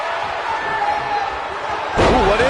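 A wrestler is slammed onto the mat in the WWE 2K19 video game, one sharp heavy impact near the end that follows steady crowd noise and game commentary.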